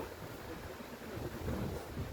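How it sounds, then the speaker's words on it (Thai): Cold wind blowing across an outdoor microphone, a steady low rumbling gust that swells slightly louder toward the end, with no speech. "ลมหนาวมาอีกแล้ว เพราะว่าอากาศมันเปลี่ยนแล้วนะ"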